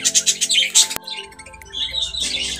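Budgerigars chirp and twitter in rapid, bright bursts, close and fairly loud, with a sharp click partway through.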